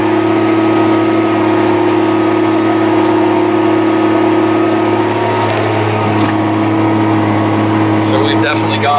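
Steady loud drone of a Challenger MT765B tractor engine in the cab while driving with a ripper in the ground, a constant low hum with no break, a few faint clicks near the end.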